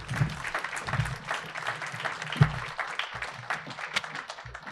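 An audience applauds after a speech on social media regulation, a sustained patter of many hands clapping at moderate volume with irregular louder claps throughout.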